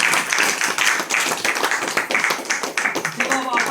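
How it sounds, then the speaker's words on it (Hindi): A church congregation breaks into a burst of loud, dense clapping that carries on for several seconds, with many hands at close range. "एक बार जोर से ताली बजाइए सब लोग।"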